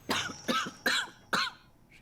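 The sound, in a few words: woman coughing, from video game Pillars of Eternity 2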